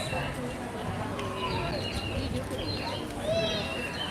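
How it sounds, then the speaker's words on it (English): Small birds chirp outdoors in the resort town of Cala Bona on Majorca, with faint high calls scattered across a steady background of talk and street noise. "I can hear more chirping."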